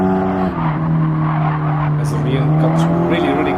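A race car brakes hard into the first turn during a CTC race, engine droning loudly with tires squealing, while a commentator talks over the din.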